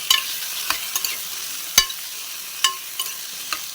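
Tomatoes and onions stirred together in a pan for mutton curry with cucumber, a quiet sizzle broken by repeated sharp spoon taps and scrapes at an uneven pace, close and with no speech.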